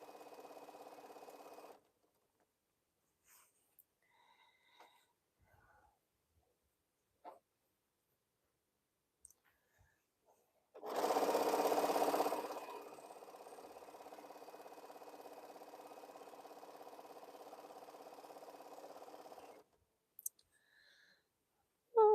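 A domestic sewing machine stitches jelly roll fabric strips together in bursts of steady whirring. One short stretch is louder and a longer one is quieter, with quiet gaps and small clicks between runs.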